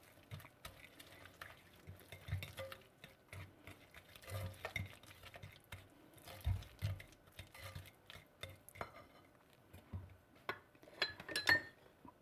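Butter cookie batter being mixed with milk in a bowl, soft irregular stirring and sloshing strokes with light clinks of utensil against the bowl, fairly quiet and close with no voices.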